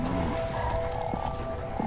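A frog croaks in the video game Shelter, a low repeated call rising over a steady ambient game soundscape with faint tonal music, heard close and clear with no talking.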